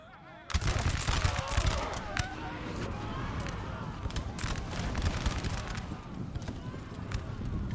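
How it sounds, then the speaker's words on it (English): A massed musket volley rings out across a 4v4 multiplayer Napoleonic Total War 3 battle. Sharp cracks burst in after half a second of quiet, then a rattling run of shots continues over hoofbeats and crowd noise, with talk mixed in. "Oh my, what a punishing volley."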